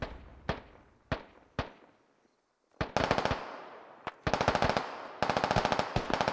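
Gunfire in the video game SquadOps: several single loud shots with decaying echoes, then a short pause, then rapid automatic bursts cracking in quick succession at close range.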